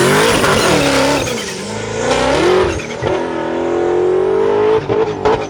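A 1,300hp Altima drift car revving hard during a drag strip test hit, loud and close, its engine note rising and falling in sustained screaming pulls.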